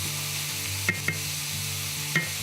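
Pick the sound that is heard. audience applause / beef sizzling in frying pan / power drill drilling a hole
beef sizzling in frying pan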